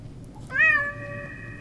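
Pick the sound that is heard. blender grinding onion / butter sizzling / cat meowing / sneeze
cat meowing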